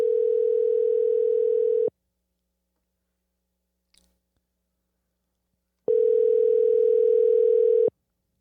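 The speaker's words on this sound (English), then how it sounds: "So let me give Derek a call here." Telephone ringback tone heard while calling a dent repair business: two long steady tone bursts a few seconds apart with silence between, loud and clear with no talking.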